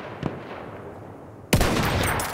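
A sharp sniper rifle shot in Battlefield 1 cracks out loud and close after a faint earlier report, its blast ringing briefly into the background.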